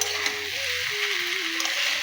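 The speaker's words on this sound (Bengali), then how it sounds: "মা এবার সবগুলোকে একসঙ্গে ভালো করে মিশিয়ে নিচ্ছে।" A pan of mixed vegetables and pasta being stirred together, with a soft steady sizzle and brief scraping strokes, close and continuous with no talking.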